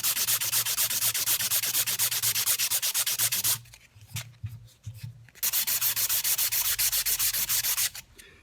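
Sandpaper rubs old epoxy off the tip of a graphite golf shaft in quick, steady back-and-forth strokes, close and loud, pausing briefly midway while the shaft is turned before the rhythmic scratching resumes.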